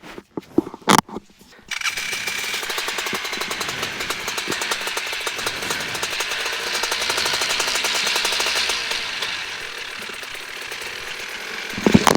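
Flylight microlight aircraft engine cranks with a few sharp bursts, then catches and runs at a steady buzzing drone for about ten seconds, easing slightly toward the end.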